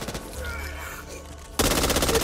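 Rapid automatic gunfire from the Back 4 Blood video game starts suddenly and keeps going in a loud, dense burst of fast repeated shots, after a quieter stretch of game ambience.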